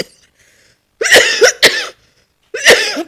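Several harsh, close coughs: a pair of quick coughs, a pause, then one more loud cough.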